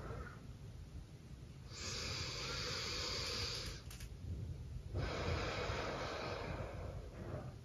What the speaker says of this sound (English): And then exhale that breath.